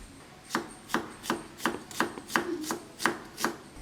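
A knife chops onion, garlic and ginger on a board in about nine crisp, evenly spaced strikes, close and clear with nothing else heard.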